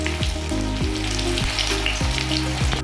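Baby corn deep-frying in hot oil, a steady loud sizzle and bubbling with periodic clunks and low thumps as pieces are moved, no voices.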